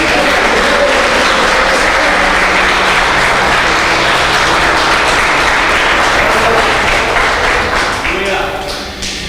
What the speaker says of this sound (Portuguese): Se você crê nisso, aplaude a Deus